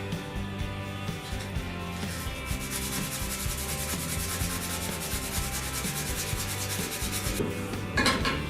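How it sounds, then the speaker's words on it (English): Hand sanding with sandpaper inside a part on a 1988 Bronco II, a close, continuous rasping rub in short back-and-forth strokes, steady throughout with no talking. "I'm going to sand the inside of this so that it gets pretty smooth"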